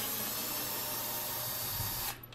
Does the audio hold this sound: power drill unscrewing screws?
yes